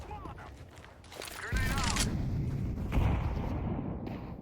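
In CS2, a grenade goes off with a deep booming blast about midway, the explosion rumbling and fading while a player talks over the gameplay sounds.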